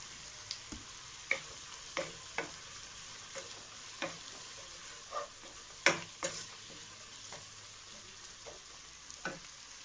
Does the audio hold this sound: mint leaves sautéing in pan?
yes